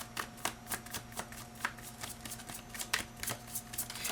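A deck of tarot cards is shuffled close up, with repeated crisp riffling and soft slapping bursts at a steady pace and low volume, no voices over it.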